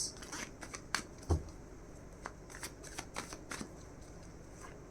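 Tarot cards are shuffled in soft, quick riffles and flicks, with a few sharper snaps of cards falling together. The sound is close and fairly quiet, with no speech.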